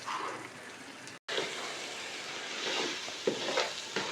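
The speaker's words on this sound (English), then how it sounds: "this egusi has been frying for a few minutes" Steady close sizzling of egusi (ground melon seeds) frying in a pan, with occasional stirring scrapes and a brief dropout.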